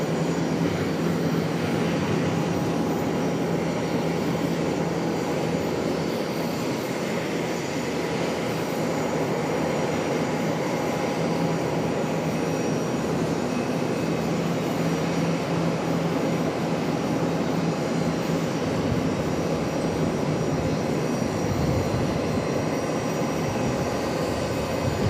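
An Embraer ERJ regional jet arriving at Charlotte airport, its steady broadband engine roar holding constant and fairly loud throughout with no voices.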